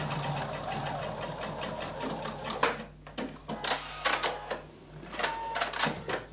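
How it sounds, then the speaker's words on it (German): A home sewing machine stitches children's trousers in a curved seam, its fast, even mechanical whir running close and steady, then breaking into short bursts with pauses as the fabric is guided. "jetzt nähe ich das einfach so im Bogen rein."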